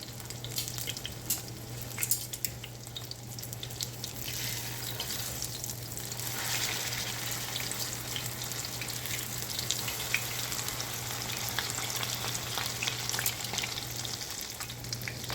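Breaded chicken cordon bleu fries in a pan, a steady dense sizzle running the whole time, close and moderately loud with a low hum beneath and no voices.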